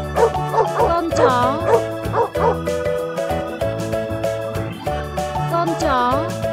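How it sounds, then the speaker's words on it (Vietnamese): Playful dog bow-wows and yips sound in quick groups over upbeat kids' music, several barks near the start and more toward the end, close and prominent. "Con chó."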